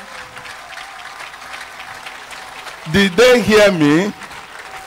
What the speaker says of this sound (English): No, I said clap for Jesus.